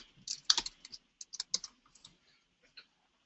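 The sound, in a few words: typing on a computer keyboard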